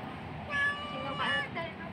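A cat meows twice, fairly close, with quiet background noise between the calls.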